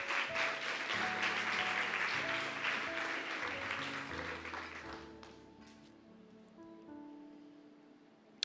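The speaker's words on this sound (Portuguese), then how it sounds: "Pode aplaudir ao Senhor." A church congregation claps during a sermon, a thick burst of applause that slowly thins and dies away, with sustained organ or keyboard chords ringing underneath.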